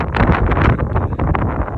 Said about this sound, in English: I know it's pretty windy.